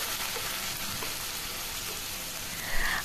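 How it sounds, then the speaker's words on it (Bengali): Chopped onion sizzles steadily in hot refined oil in a pan, a dense continuous crackling hiss that holds at an even level throughout, with a brief louder flare near the end. "তেলটা ভালো মতো গরম হয়ে গেলে এবারে এর মধ্যে আমি ওই আগে পেঁয়াজ কুচিটা দিয়ে দেবো"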